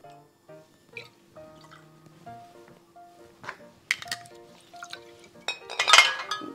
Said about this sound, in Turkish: Sonra buz koyacağım.